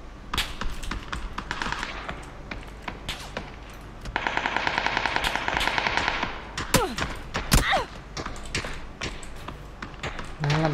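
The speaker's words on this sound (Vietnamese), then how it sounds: "Đấy là bắn đầu rồi ta." Rapid bursts of video game gunfire during a shootout between teams on rooftops, dense clattering shots near and loud with scattered single cracks, a sustained automatic stretch in the middle, and brief talk underneath.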